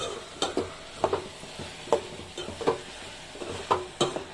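Tomatoes stirred and fried in a pan, with a soft continuous sizzle under repeated scraping stirs of a utensil against the pan at an irregular, roughly half-second rhythm, close and moderately quiet.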